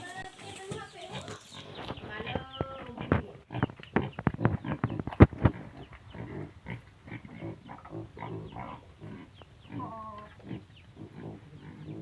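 Pigs kept in a pen beneath a stilt house on Sumba give off intermittent grunts and squeals in short irregular bursts, close by, mixed with occasional voices.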